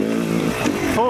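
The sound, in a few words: Yamaha YZ300 E-Start dirt bike engine revving in third gear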